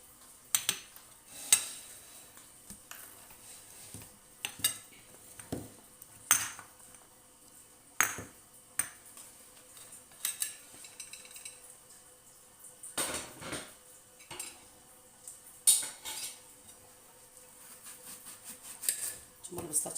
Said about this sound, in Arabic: انا غادي نقطعها غير هكا بالموس